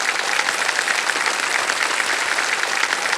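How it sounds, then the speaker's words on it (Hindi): Steady, dense applause from a studio audience on a televised quiz show set, many hands clapping together at full volume without a break. "तालियां बज जाए इनके लिए।"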